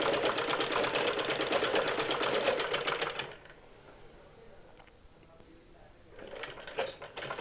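Sewing machine stitching the neckline of a saree blouse, running in a fast, steady mechanical chatter for about three seconds, then stopping, with quiet handling noise before a brief restart near the end.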